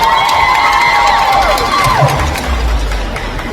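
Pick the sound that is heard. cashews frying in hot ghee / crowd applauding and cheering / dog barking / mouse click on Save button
crowd applauding and cheering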